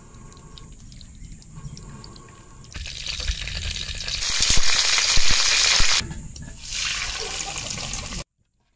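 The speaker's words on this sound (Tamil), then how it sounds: "கடுகு வறுப்புல ஒட்டு தாளிக்க போறேன் ஐயா" Mustard seeds in hot oil sizzle and crackle loudly, swelling into a dense spattering hiss midway before easing, with a steady background hum and no talking.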